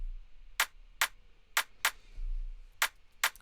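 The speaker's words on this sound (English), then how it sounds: "this is just a synthesized clap" A synthesized clap sample for an Afro beat plays alone as six crisp, dry hits at slightly uneven spacing.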